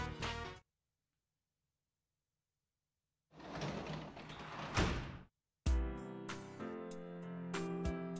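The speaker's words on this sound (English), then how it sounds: "You hear someone at the door." A door sound from the Persona 4 Golden video game: a short noisy burst like someone arriving at the door, set between stretches of game music and silence.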